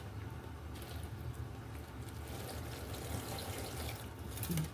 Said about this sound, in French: on va verser de l'eau dans l'autre